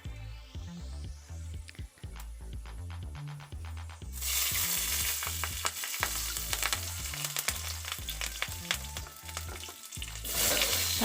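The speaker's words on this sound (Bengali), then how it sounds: "তারপর কাঁচা লঙ্কা দিয়ে অল্প একটু নাড়তে হবে।" Green chilies fry in a little oil in a wok, with a steady crackling sizzle and repeated scraping stirs of a spatula; the sizzle grows louder midway through.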